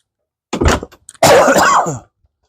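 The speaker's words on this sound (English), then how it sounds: "Sorry about the cough." A single close cough followed by a longer, rasping throat clearing, loud and isolated against silence.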